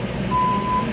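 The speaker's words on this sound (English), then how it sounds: "it is a nightmare for people walking behind reversing machines" Reversing alarm on a construction machine at a landscaping build site for a garden show, a steady tone sounding over a constant rumble of traffic and engines.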